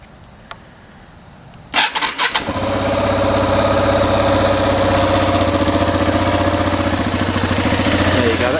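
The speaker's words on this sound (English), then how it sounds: "we'll start her up for you so you can hear what that standard exhaust sounds like" A motorcycle with a standard exhaust is started from cold after a brief crank, then settles into a steady, loud, close idle with an even low throb.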